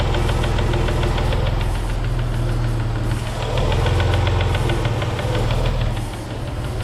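A Dodge Magnum engine revs steadily and fairly slowly, with a rough, knocking throb and mechanical rattle, loud and close throughout.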